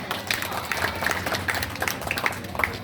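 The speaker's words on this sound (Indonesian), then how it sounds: "tepuk tangan untuk beliau." Audience applause at a local contest event in Kulon Progo, Indonesia, a fairly thin scatter of claps from the crowd with some murmuring underneath, steady across the moment.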